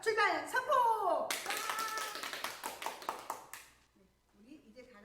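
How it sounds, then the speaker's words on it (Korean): Children at a church summer Bible school clap together in a sustained burst of rhythmic applause after an adult's loud announcement, then the clapping fades and speech resumes quietly. "우리 친구들은 박수 쳐주시면 되세요"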